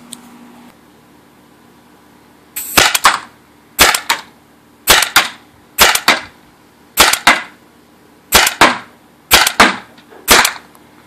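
A Tippmann TiPX paintball marker with its stock barrel fires nine sharp, loud pops at a roughly even pace about one per second, each shot close and punchy against a quiet background.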